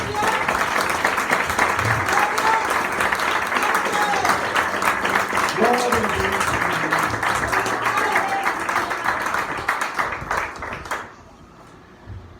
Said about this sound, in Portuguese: Oh, aplauda o Senhor,